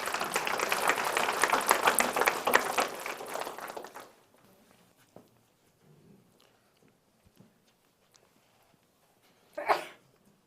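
A short, sharp sneeze stands out near the end, following a long stretch of applause that fades into quiet room noise.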